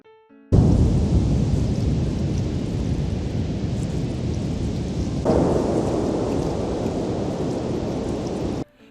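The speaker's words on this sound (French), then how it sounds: "Le tonnerre aussitôt éclata." A thunderclap bursts in abruptly and rolls on as a loud, sustained rumble with a second surge midway, set as a sound effect in a French-narrated African folk tale, with no voice over it.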